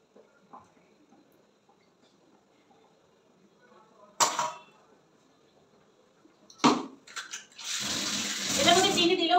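Food being washed in a kitchen sink under a running tap, with faint quiet handling noises, a couple of brief splashes, then a steady loud stream of water at the end.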